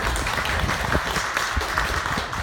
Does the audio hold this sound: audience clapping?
yes